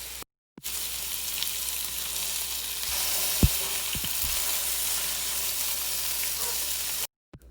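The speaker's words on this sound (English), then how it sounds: "we're not trying to cook the meat here, we're just searing it" Loud, continuous sizzling of pork searing in a hot Instant Pot, with a few sharp pops and clinks partway through, fading out abruptly at the end.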